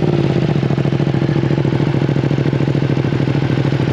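A Ducati V2 Bayliss motorcycle with an Akrapovic full exhaust runs loud and close, its twin-cylinder engine throbbing in a rapid, even pulse with a brief blip at the start, heard alone with no talking.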